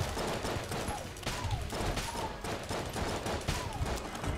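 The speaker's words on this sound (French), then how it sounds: "on va finir la salle juste au flingue classique" A classic pistol fires in Enter the Gungeon amid continuous dense game combat noise, with shots blending into a steady loud barrage of gunfire and effects.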